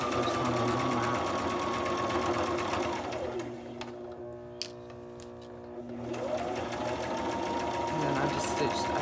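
A sewing machine stitches small fabric scrap pieces into ribbons. The steady mechanical whir runs close and loud, stops for a short gap midway, then starts again.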